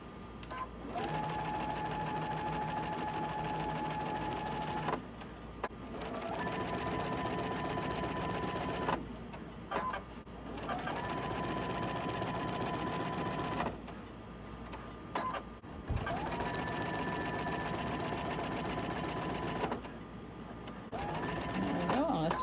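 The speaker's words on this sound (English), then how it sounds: "Go ahead and sew the other side on." A sewing machine runs close and loud, stitching fabric for a table runner in long steady whirring bursts split by short pauses, with its motor hum holding a steady pitch.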